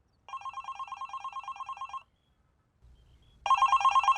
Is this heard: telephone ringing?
yes